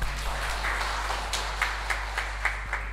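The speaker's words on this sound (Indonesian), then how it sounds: "Iya, tepuk tangan." An audience claps hands at an Indonesian Independence Day church service, with a run of sharp, evenly spaced claps at moderate distance over a steady low hum.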